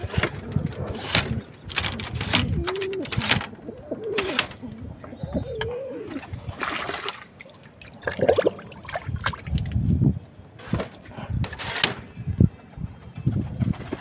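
Domestic pigeons in a rooftop loft, including an older bird about five years old, coo repeatedly in low throaty bursts, close by, with soft trickling water and faint rustling between the calls.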